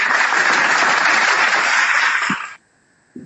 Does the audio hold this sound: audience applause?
yes